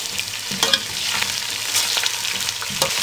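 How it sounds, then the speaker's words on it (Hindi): Ginger garlic paste sizzling and frying in hot oil while being stirred, a steady hiss with occasional scraping, close and moderately loud. "अब इन दोनों चीज़ों को 1 मिनट फ्राई करेंगे"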